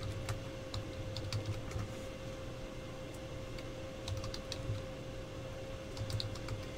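Fast, steady typing on a computer keyboard, with close, crisp key clicks in irregular clusters over a constant low electrical hum, and no one speaking.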